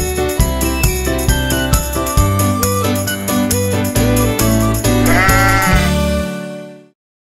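Sheep bleats in a children's nursery-rhyme animal song, sounding repeatedly over a loud, steady musical backing with bells and tinkling before everything fades out at the end.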